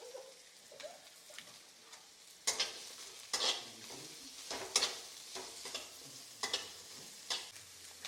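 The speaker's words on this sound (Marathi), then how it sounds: "आता आहे ना कांदा परतून घ्यायचा" Onion for a masala sautés in a pan with a quiet background sizzle, punctuated by several louder bursts of stirring and scraping as the pieces are tossed.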